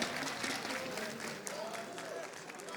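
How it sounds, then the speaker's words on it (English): A crowd at an ESL One Katowice esports semifinal applauds steadily, dense clapping filling the arena with a faint voice briefly audible underneath. "Round of applause again."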